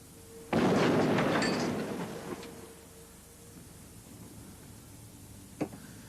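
A small demonstration explosion goes off as a loud, sudden boom that rumbles and fades over about two seconds, followed later by a faint brief knock.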